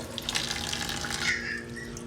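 Tap water runs steadily over freshly scaled fish being rinsed in a sink, a continuous close splashing hiss with no talk.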